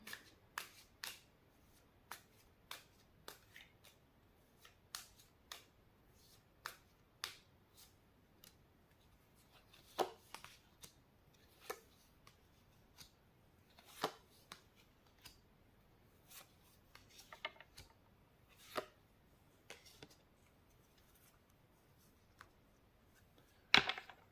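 Tarot cards shuffled and drawn for a reading, heard as a long run of crisp, separate snaps and flicks at an irregular pace, close and fairly quiet, with no talking.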